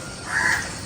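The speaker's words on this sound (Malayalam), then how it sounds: "കിളിനാഥം" A single short crow caw in the distance over a soft, steady outdoor background.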